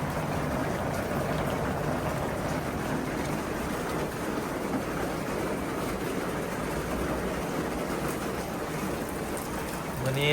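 Steady rain falls continuously at a home in the countryside, a dense, even wash of sound with no breaks and no talking.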